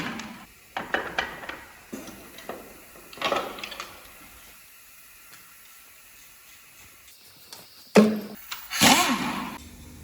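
Fuel line fittings being unscrewed on a Scania R500 V8 truck engine with 1.6 million km, heard as scattered metallic clicks, taps and scrapes near the mic, with a quiet lull mid-way and louder clanks and hissy rustling toward the end.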